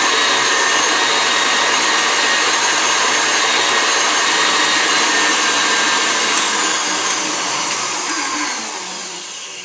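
An electric hand mixer whips meringue from egg whites and sugar at top speed. It gives a loud, steady whirring drone that fades slightly toward the end.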